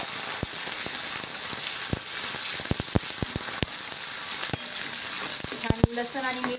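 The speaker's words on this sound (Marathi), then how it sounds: "आता मी याच्यामध्ये कढीपत्ता घालतीये।" Curry leaves hit hot oil that already holds green chillies and garlic for a Maharashtrian dahi kadhi, giving a steady close sizzle broken by sharp pops and crackles, with faint metal clinks near the end.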